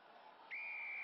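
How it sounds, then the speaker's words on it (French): A referee's whistle gives one sharp, sustained blast at a rugby match at Stade Marcel Michelin, rising over a faint crowd hum. "Et finalement, le coup de sifflet de l'arbitre."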